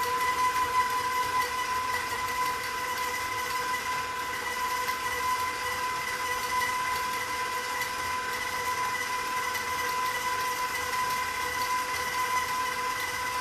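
Chocolate chip cookie dough being whipped, with a steady, continuous mechanical whir and hum holding evenly for the whole stretch, with no voices.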